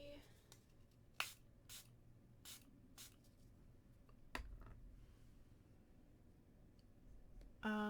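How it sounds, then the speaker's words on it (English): Makeup setting spray is misted onto a face in several short hissing bursts at uneven intervals, close and quiet, with some clicks between them. "And setting spray."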